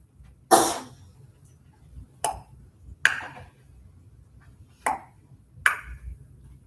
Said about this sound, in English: That's my joints grinding.